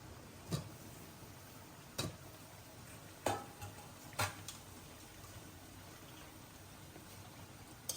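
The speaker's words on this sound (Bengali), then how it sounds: "মাছগুলা কষাই নেব।" Fish frying in spice masala in a pan, a faint low sizzle under sharp, spaced clacks of a utensil turning the pieces, about five distinct knocks.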